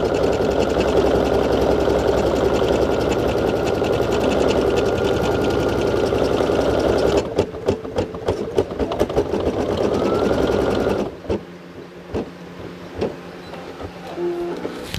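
A Brother SE1900 embroidery machine stitches a hat, a loud, fast mechanical chatter that runs steadily for about seven seconds, then breaks into irregular stops and short bursts before going quieter near the end.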